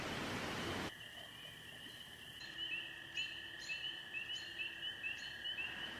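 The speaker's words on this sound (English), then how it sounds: "every now and again, the chirp of a cricket." A cricket chirps in short repeated bursts at a quiet waterside spot, the chirps faint and spaced out over a steady high tonal drone, with no voices.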